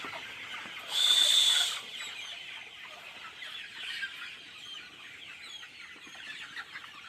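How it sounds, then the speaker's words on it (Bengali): Forty-day-old chickens cluck nearby, with a sudden burst of flapping wings early on as they struggle to drink water, then a busy coop murmur continues. "মুরগি উড়াউড়ি করতেছে, পানি খাই পারতেছে না।"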